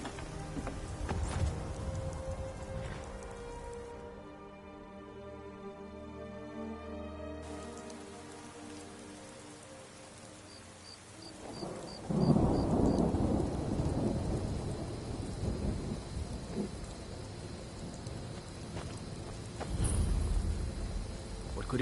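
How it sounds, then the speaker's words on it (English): Steady, heavy rain hisses in the video game Skyrim, and a deep roll of thunder breaks in midway and rumbles on. Faint clip-clop sounds sit under the downpour. "Why is it always raining?"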